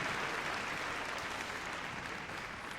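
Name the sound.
applause for a freestyle heelwork routine at Crufts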